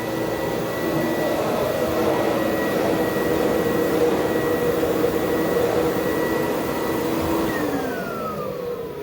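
A Bissell Big Green carpet cleaner runs steadily close by, a loud continuous whirring motor and suction drone that dips in pitch near the end.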